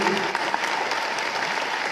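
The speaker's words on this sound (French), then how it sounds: "Applaudissez-les pour les raccompagner." Applause from the audience at the 2019 Dunkerque star gala as the musicians leave the stage, steady crowded clapping with a few sharper individual claps, loud and uninterrupted.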